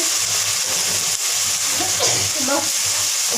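Chopped onions with a spoonful of salt frying in hot oil, a steady close sizzle with faint stirring scrapes running throughout, some soft background voice underneath.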